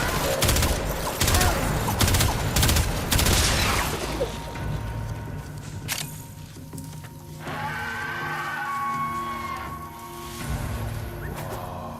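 Bursts of gunfire in the sci-fi shooter game Warframe, dense rapid volleys and booms crowding the first few seconds, then thinning to scattered shots over a softer ambient game background.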